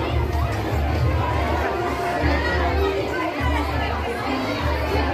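A dense crowd at a temple during Durga Puja in Jayrampur, with steady loud chatter, children's voices and shouts blending into a continuous hubbub close around.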